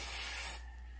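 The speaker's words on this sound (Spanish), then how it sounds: "me encantan los desodorantes de spray" A single continuous hiss of aerosol spray deodorant at close range, lasting about half a second before cutting off into quiet room tone.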